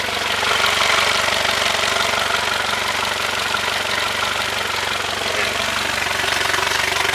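The small engine of a 2024 Tahoe 185 S boat runs steadily at idle, a loud continuous rumbling drone with a fast mechanical throb, holding even throughout with no voices.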